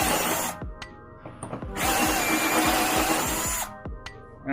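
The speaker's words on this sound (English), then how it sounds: "We use a unibit for the last part of the 9/16 hole." A power drill with a unibit cuts a 9/16 hole in metal during a Mercedes C63 air suspension install, a steady close whine broken by short pauses, with rapid ticking chatter from the stepped bit.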